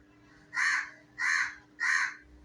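Three loud crows caw one after another at an even pace, each call a short harsh burst, while the birds feed on parotta outdoors.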